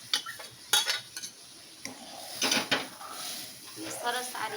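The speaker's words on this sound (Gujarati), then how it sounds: "હવે આપણે જે દાળ બાફેલી હતી એ દાળ આમાં એડ કરી દેવાની છે" Boiled dal being added to a pan of tempering for dal fry and stirred in, with spoon clatters against the pan and soft sizzling; a person talks over the stirring.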